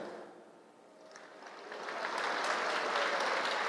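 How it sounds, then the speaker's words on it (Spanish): Applause from an audience at a Catholic men's conference, starting moderate, dipping briefly, then swelling into sustained, dense clapping from a large crowd. "Aplauso para los mayores de 60."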